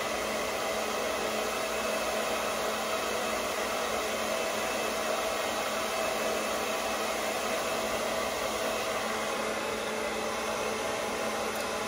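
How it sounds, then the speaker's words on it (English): Steady, broadband whoosh of a blow dryer running continuously and close, with no breaks or voices. "Let me hit my bang with the blow dryer"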